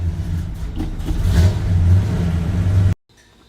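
An old truck engine runs close by at a steady mid-pitched idle, then revs up for about a second and settles before the sound cuts off abruptly.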